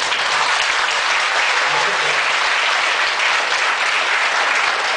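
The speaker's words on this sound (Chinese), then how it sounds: "咱们再一次掌声感谢刘老师" Audience at a New Oriental School lecture applauding, dense sustained clapping at full loudness throughout, with faint voices beneath.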